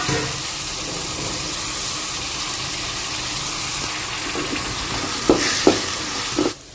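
Tomatoes frying with small onions in a pan for keerai sambar, a steady loud sizzle throughout, with a few stirring scrapes near the end before it suddenly cuts off.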